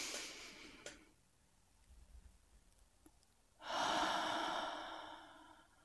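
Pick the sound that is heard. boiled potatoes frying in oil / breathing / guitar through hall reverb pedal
breathing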